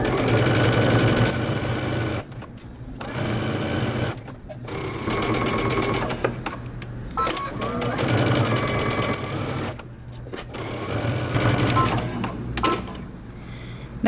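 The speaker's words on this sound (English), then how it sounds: "sew around your pocket and across the bottom" Sewing machine backstitching and then stitching around a bomber jacket pocket and across its bottom, a close, steady mechanical whir that stops and restarts several times.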